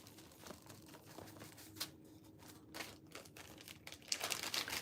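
Plastic bag crinkling during a decoupage craft session, quiet, close rustles and sharp crackles that come in irregular bursts and grow busier toward the end, with no talk.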